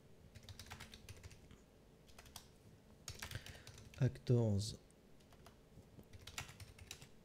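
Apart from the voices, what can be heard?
typing on a computer keyboard near the microphone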